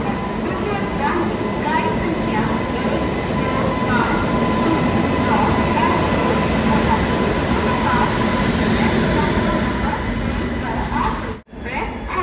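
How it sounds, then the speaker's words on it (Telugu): Guwahati Superfast Express train arriving at a station, a steady loud rumble of rolling wagons that runs throughout, with some talk under it. "మరి ఈ ట్రైన్ వస్తుందండి."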